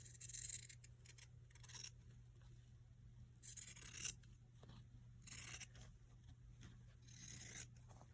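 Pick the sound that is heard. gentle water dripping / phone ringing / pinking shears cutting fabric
pinking shears cutting fabric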